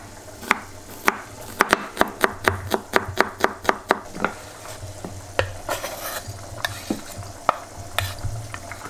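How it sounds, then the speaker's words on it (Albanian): Garlic being finely chopped with a knife on a board for a Vlora-style jahni stew, a fast run of sharp, close knocks that slows into scattered cuts, with no talking. "hudrat i prejmë imt"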